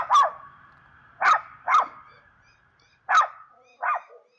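A pet dog named Sheriff barks at a neighbour outside, giving five sharp, loud barks in irregular pairs and singles with short silent gaps, close by and with no talk over them.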